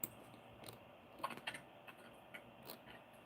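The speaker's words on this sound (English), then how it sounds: "I know my keyboard is loud" A loud computer keyboard clacks under sparse, irregular typing, with a few sharp keystroke clusters standing out from a quiet room and no talking.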